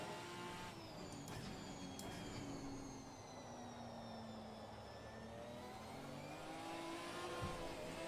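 A car lapping a track in a racing video game, its engine droning and revving steadily with rising and falling pitch throughout, fairly faint with no voices over it.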